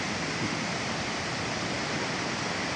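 A waterfall in Pakxong, Laos roars with a steady, loud, broadband rush of falling water, heard close and constant throughout without any voices.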